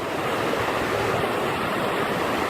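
Walker Camp Prong, a mountain stream in the Great Smoky Mountains, rushes steadily beside a parking lot, a dense, continuous broadband roar of water that fills the whole stretch without a break.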